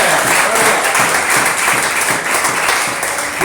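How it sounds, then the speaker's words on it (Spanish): A church congregation applauds during a Spanish-language sermon celebrating the risen Christ, producing a steady, dense wash of clapping that fills the room at full volume for the whole stretch, with faint voices mixed in. "Vamos a dar un aplauso al Cristo que resucitó"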